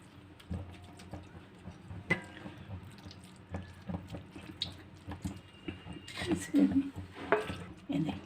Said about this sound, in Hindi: अब इसको ना ये पानी इसका ना स्ट्रेन कर लेना है